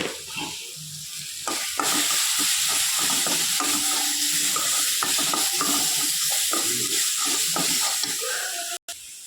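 Masala fries in a pan with a continuous loud sizzle and repeated scraping stir strokes, close by, with a short gap near the end and no voices.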